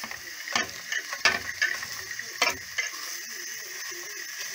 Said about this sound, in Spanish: tostamos la carne en trozos más o menos grandes y los doramos haciendo un fondo de cocción